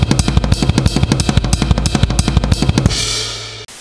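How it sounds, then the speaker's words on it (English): Classic blast beat on a drum kit, a rapid, even, loud hammering of kick and snare under cymbals for about three seconds, then a cymbal wash rings out and is cut off. "But the second kind of blast beat was a classic blast beat"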